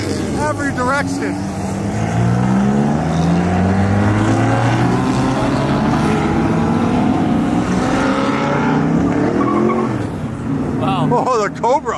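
Supercars including Lamborghinis rev and accelerate all around at a crowded gathering, loud layered engine roars rising and falling in pitch as several cars pull away, with a brief voice near the end.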